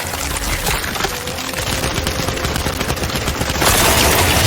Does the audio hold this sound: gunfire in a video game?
yes